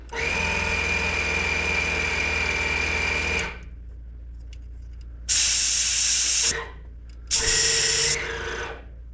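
Small portable pump kicking on and running, a loud buzzing motor drone for several seconds that cuts out, then two shorter hissing bursts, close up with no talking.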